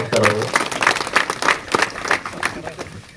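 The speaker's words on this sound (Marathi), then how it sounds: "तर्फे जोरदार टाळ्या वाजवून स्वागत करावं" Applause from a gathered crowd welcoming guests at a village society felicitation ceremony, a burst of rapid clapping that holds steady for a few seconds, with voices mixed in.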